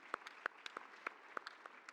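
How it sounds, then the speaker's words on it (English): Conference audience applauding: sparse, distinct hand claps at a moderate distance, irregular and fairly light, no voices. "Let's clap."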